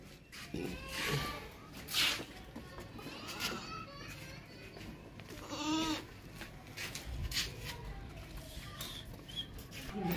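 Goats, including a large, heavy billy goat, bleat a few times amid a busy outdoor goat market din, with other animal calls and people talking in the background.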